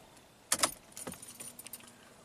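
A set of car keys jangles and clicks in the ignition of a Mercedes-AMG as it is switched off, with a couple of sharp close metallic rattles followed by lighter scattered jingles in a quiet cabin.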